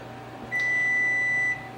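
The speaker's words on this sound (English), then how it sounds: "Timer's going off" A kitchen oven timer sounds one steady, high electronic beep lasting about a second over a faint background hum.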